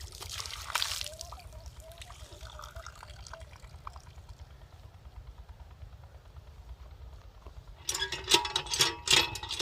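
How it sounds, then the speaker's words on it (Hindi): Water from a village hand pump in rural Punjab, Pakistan, splashes and trickles as hands and face are washed, with quieter dribbling in the middle and a louder burst of splashing near the end. "देखें ताज़ा पानी निकाल के नलके का मुंह हाथ धोना।"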